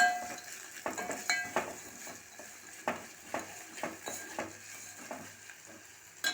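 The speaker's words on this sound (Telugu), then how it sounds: "పల్లీలు అయితే మంచిగా వేగినాయి." Peanuts fry in a pan with a faint sizzle beneath repeated scraping stirs of a utensil against the pan, close and quiet, without talk.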